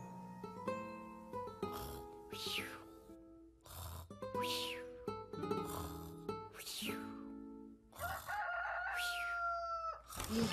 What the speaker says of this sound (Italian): Il gallo ha appena cantato